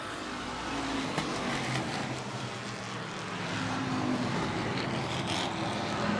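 Street stock race cars circle a track, engines droning loudly and steadily as a pack, with slight pitch swells as cars pass, continuous and fairly near.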